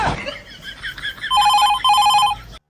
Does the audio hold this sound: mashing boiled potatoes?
no